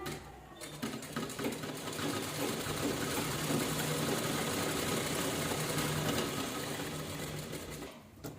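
A sewing machine runs steadily while stitching a two-colour fabric purse, its close, continuous needle whir humming for several seconds with a brief pause at the start and a stop near the end, no talk over it.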